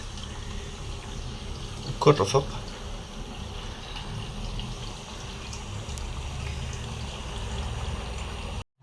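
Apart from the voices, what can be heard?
fresh water flowing into goldfish breeding tank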